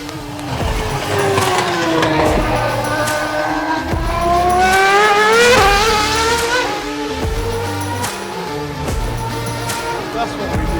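A Super Touring race car engine roars and revs loudly nearby, its pitch sweeping up and down through gear changes, with talk underneath.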